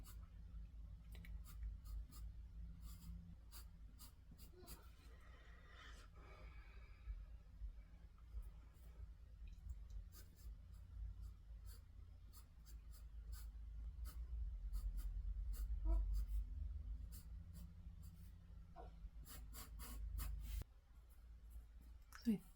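Pencil sketching on paper for a landscape drawing, with soft, close scratchy strokes in short irregular bursts and longer shading passes, faint over low background hum, with quiet talk at times.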